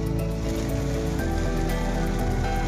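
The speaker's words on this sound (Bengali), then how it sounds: "একেবারে জোরদার বৃষ্টি শুরু হয়েছে।" Heavy rain falls in New Town, making a dense, steady roar of pouring water that holds level throughout with no pauses.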